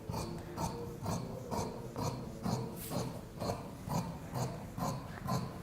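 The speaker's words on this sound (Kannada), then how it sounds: "ಇವಾಗ ಎಲ್ಲ 4 ಸೈಡ್ಸು ಒಂದೇ ಸಲ ಕಟ್ ಮಾಡ್ಕೊಂಡಿದ್ದೀನಿ." Rhythmic scraping, rasping cuts through fabric for a kurta, repeating roughly twice a second in close, steady strokes with no talking.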